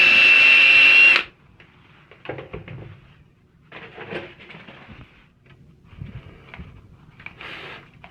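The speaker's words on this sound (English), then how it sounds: "And drill some holes for our screws." A loud power drill whirs steadily for about a second, drilling screw holes in a rosewood strip inside an Ibanez bass guitar, then cuts out. Quieter rustling, handling and scraping noises follow.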